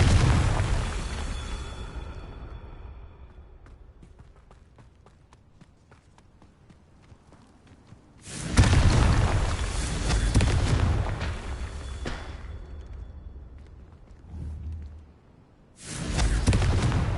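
Confringo spell explosions in the Hogwarts Legacy video game, heard as loud fiery bursts in separate waves with a long roaring blast in the middle and a final burst at the end, quieter gaps between them.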